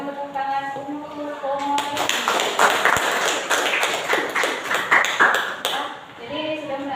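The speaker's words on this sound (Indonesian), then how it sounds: "Dan tepuk tangan untuk" A classroom of students claps hands together at the close of a lesson, a burst of dense, scattered applause lasting several seconds, with voices heard before and under it.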